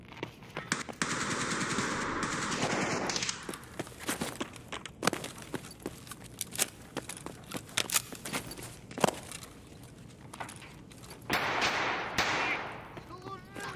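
Automatic gunfire in the shooter game Escape from Tarkov on the Factory map, with loud rapid bursts and scattered single shots across the clip, along with footsteps and brief talk between players.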